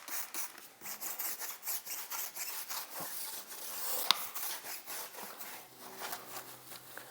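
An abrasive tire brush scrubbing a car wheel during a wash, producing repeated soft rhythmic scraping strokes, fairly quiet and close, with one brief sharp click midway.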